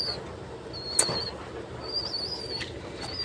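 Pigeons flock around a feeding spot, soft coos and rustling mixed with sharp bursts of flapping wings and thin chirps, close by and moderately quiet over a low background hum.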